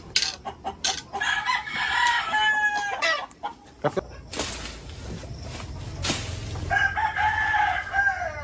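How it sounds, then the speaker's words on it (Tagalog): A rooster crows loudly nearby, twice, with hens clucking and fluttering around in between the crows. "Katapang naman ang manok ngayon."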